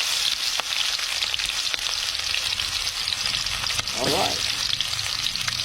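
Garlic and onion sauté for pata ng baboy with a constant crackling sizzle, broken by a few sharp ticks and a brief scrape as the pan is stirred, while a voice speaks briefly near the start.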